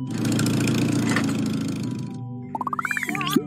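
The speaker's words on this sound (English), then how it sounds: "T is for tractor." Tractor engine chugging with a steady low mechanical rumble that cuts off abruptly, followed by a series of rising toy-like electronic beeps and tones.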